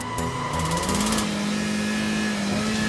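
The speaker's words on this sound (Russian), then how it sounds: "Газ, прям педаль утапливаем в пол. Прям в пол, чтобы она до пола. И бросаем сцепление." A car engine screams at full throttle for a burnout, pedal floored on first gear before the clutch drops, a loud continuous high rev with a steady tone and no talk.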